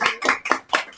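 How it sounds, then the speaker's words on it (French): Audience at a live music evening applauding in short bursts, a few clustered rounds of clapping with brief gaps, fairly near and moderately loud. "On peut s'applaudir."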